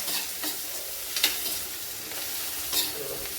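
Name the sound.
stirring coriander and spices into sizzling tempering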